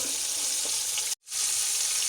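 Pieces of silver carp (tovstolob) fry in a pan with a dense, steady sizzle close up, broken by a brief silence just past the one-second mark, then resuming at full loudness. No speech.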